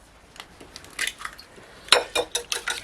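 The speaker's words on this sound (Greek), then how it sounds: "Θα ανακατέψω με μία σπάτουλα." A spatula scraping and stirring macaroni pie filling with gouda cheese in a bowl, a series of short, close clinks and scrapes in uneven rhythm.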